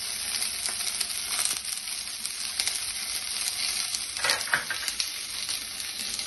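Green peas fry and sizzle in a pan while being stirred, a steady close crackling hiss with scraping stir strokes and a few brighter clinks, with no talk.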